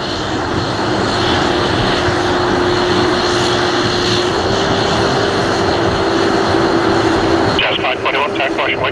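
A KLM airliner roars loud and steady on its takeoff run at Toronto Pearson airport, heard from a distance. The engine noise holds without a break under faint radio chatter from air traffic control.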